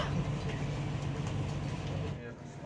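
Passenger train of the KA Singasari economy service departing Lempuyangan station in Yogyakarta at night, a steady low rumble with rolling wheel noise, continuous and fairly loud throughout, easing slightly near the end.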